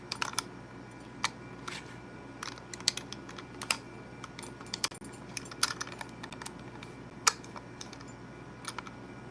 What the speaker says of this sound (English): Y'all hearing me clicking it?